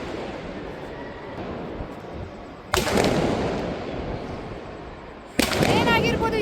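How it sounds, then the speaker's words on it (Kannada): Firecrackers set off in a residential society during celebrations of an RCB cricket win, heard as two sudden loud bursts that ring out over a steady crowd-like background noise. "ಯಾಕೆ ಪಟಾಕಿ ಹಚ್ತಾ ಇರ್ಬೋದು?"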